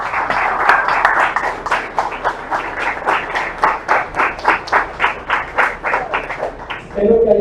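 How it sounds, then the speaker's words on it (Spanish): A church congregation claps in a rhythmic, steady beat, loud and close, with the clapping running evenly for several seconds before a voice begins speaking at the end. "Dale un aplauso a Jesús."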